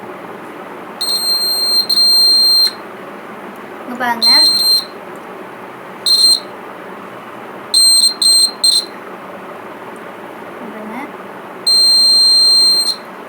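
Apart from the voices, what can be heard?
homemade battery door alarm buzzer sounding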